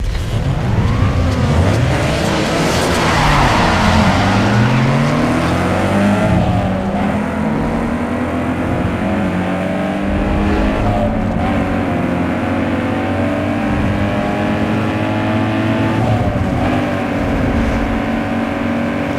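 Peugeot race car in Need For Speed Underground 2 revs hard through rising and falling gear shifts, a continuous loud engine whine climbing and dropping in pitch as it accelerates.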